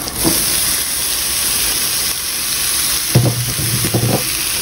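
Fried broccoli, carrot and potato are stirred in a hot pan, giving a steady loud sizzle and hiss with a few scraping spoon strokes near the end.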